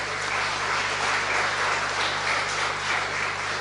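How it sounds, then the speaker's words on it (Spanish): Steady, dense applause fills a chapel community gathering for a woman's birthday, a continuous even wash of clapping without voices, heard throughout. "Entonces, un fuerte aplauso para ella."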